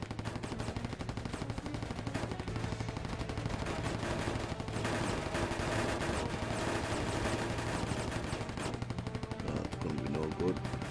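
Aircraft machine guns in Air Conflicts: Secret Wars fire in continuous rapid bursts over engine drone, a dense, rattling stream of shots lasting throughout, with occasional talk mixed in.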